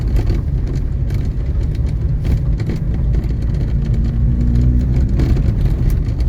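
A 1974 Honda Civic engine drones steadily from inside the car, with low rumbling road noise and a slight rise in pitch as it accelerates.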